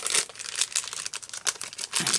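A mushroom-shaped die-cut packet crinkles and crackles continuously up close as the pieces are pulled free, with no voices.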